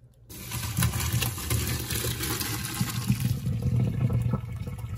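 Pasta cooking water gushes and splashes steadily into a metal sink for several seconds as penne is drained, a continuous rushing pour close by with no talking.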